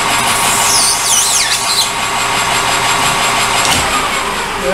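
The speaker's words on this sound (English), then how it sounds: "I'm going to cut this off here in the lathe with cut-off tool" A metal lathe parts off a workpiece with a cut-off tool, a steady machine hum under high squealing, warbling tones from the cut, loud and close, with a brief clunk near the end.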